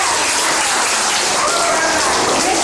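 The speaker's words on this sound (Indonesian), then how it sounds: "Ya tepuk tangan dong buat Iban." A class of students bursts into applause for a classmate named Iban, a loud, dense, continuous clatter of many hands that fills the whole moment.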